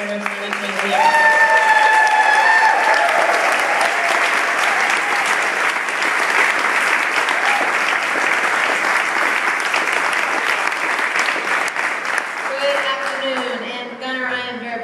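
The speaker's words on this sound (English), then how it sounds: "Please give a big round of applause to Senator Chang-Diaz." An audience applauds a senator at a lobby day event, with loud, sustained clapping that fills nearly the whole span and fades slightly near the end.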